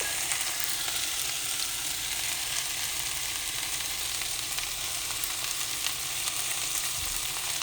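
Okra for bhindi sabzi sizzles in hot oil in a pan, a steady close-up crackling hiss with no pauses.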